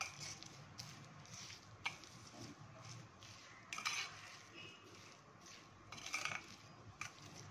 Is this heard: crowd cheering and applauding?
no